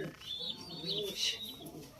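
Pet pigeons cooing softly in a quiet home setting, a few faint, low murmuring coos spread over a couple of seconds with light chirpy sounds above.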